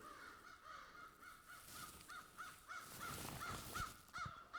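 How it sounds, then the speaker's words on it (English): Faint crows caw in a quick repeated series at a distance, harsh calls over soft outdoor background noise. "I think there's a turf war happening with some squirrels and crows."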